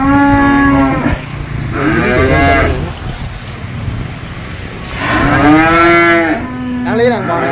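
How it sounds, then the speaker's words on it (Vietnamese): Cattle on a Vietnamese farm lot, newly arrived stock for sale, let out several loud, close moos in succession, long drawn calls with short gaps between them. "Bò này đẹp bò lắm cô chú."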